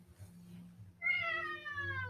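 A cat lets out one drawn-out meow partway through, fairly close, after a stretch of quiet low background noise.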